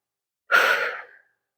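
A single audible breath lasting under a second, drawn during a held, engaged pose in a ground-flow stretching session, close and clear with no talking.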